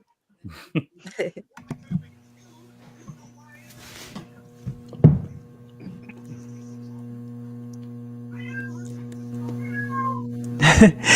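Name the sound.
cat meowing, angry cry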